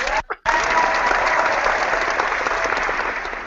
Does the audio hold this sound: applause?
yes